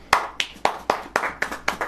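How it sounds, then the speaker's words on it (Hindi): A church congregation claps in unison, eight sharp, evenly spaced claps in a steady rhythm, close and clear with no talking over them. "ताली बजाइए।"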